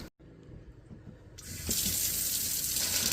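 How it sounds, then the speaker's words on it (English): Kitchen faucet in an RV running, a soft hiss that swells into a steady, louder gush of water at close range, with no talking. "Now, let's turn on some faucets."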